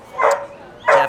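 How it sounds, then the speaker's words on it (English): Two sharp dog barks, close and loud, separated by a short pause, at a dog-friendly eatery. "there's some barky dogs here"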